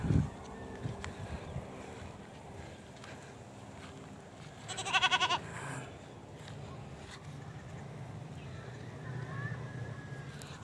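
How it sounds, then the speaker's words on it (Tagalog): Goats on a Philippine farm bleat now and then over a steady outdoor background, with one louder burst in the middle; someone speaks at times. "Ang mga kambing natin dito."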